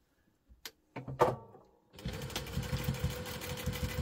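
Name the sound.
sewing machine stitching across a bag end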